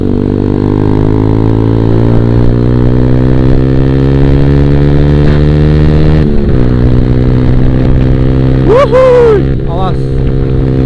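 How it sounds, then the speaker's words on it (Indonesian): Motorcycle engine revving loudly and close on a solo road ride, a steady harmonic drone that drops sharply partway through, with a brief rising whine near the end. "Kita ngegas dulu dikit, baru kita pulang."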